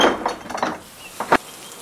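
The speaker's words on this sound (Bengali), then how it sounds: "আস্তে আস্তে দরজা খুলে বারান্দায় এসে দাঁড়ালাম" A door is eased slowly open onto a verandah in a Bengali ghost story, making a short run of close mechanical rattles and clicks and ending in a sharp latch clink.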